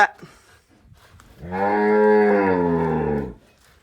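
A cow on a Tamil farm selling cattle gives one long, loud, close moo lasting about two seconds after a quiet stretch, with no talking.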